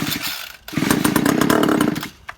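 A petrol strimmer that would not start after winter is pull-started and its small two-stroke engine catches, giving a brief rattle and then a loud, close, buzzing run of about a second and a half before cutting out, with no talk.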